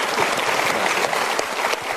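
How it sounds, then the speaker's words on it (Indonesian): An audience at a Mario Teguh Golden Ways motivational talk show applauds two guests, Mas Noval and Mas Ajis, with dense, sustained clapping filling the room, loud and continuous for the whole moment. "Kita berikan tepuk tangan untuk Mas Noval dan juga Mas Ajis"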